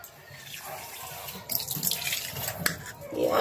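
Tap water runs into a pot of rice that already holds pork, a steady splashing flow that grows louder and brighter partway through as the pot fills.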